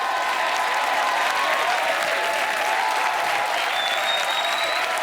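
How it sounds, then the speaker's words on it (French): Studio audience on a French TV comedy variety show applauds loudly and steadily for a magician, a dense, continuous clapping with some crowd noise throughout. "je vous demande de lui faire un tonnerre d'applaudissements"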